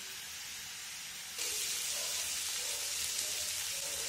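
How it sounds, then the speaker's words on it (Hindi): Mashed potatoes frying in a kadhai for a potato and tomato curry, heard as a steady close sizzling hiss that grows suddenly louder partway through and stays constant. "इसको 1 से 2 मिनट भूनेंगे।"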